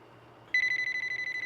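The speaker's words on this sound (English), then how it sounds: "your phone is ringing" A telephone bell starts abruptly after a quiet moment and rings in a rapid, close, trilling burst that continues to the end.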